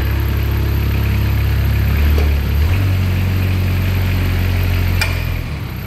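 Moffett M55 truck-mounted forklift engine idling steadily, a loud low droning hum that shifts briefly in tone partway through before settling back, then eases off slightly at the end.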